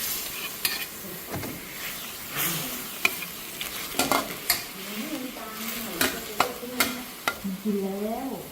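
Chicken stir-frying in a wok for Thai holy basil stir-fry, with a steady sizzle and repeated scraping and clanking of a spatula against the pan, loud and close, plus a few sharp metallic knocks.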